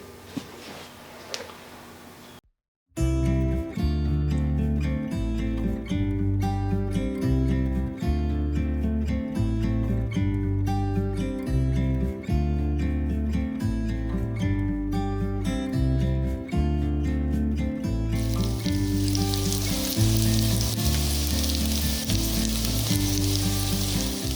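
Sausages brown in a frying pan for a bean and sausage soup, a steady loud sizzle running continuously for about twenty seconds after a brief quiet start, with no voices.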